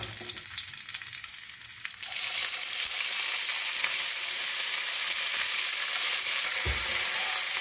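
Red spinach is dropped into hot oil with lightly browned garlic and green chilli. A quieter sizzle jumps to a loud, dense, close hiss that holds steady, with a brief stirring knock near the end.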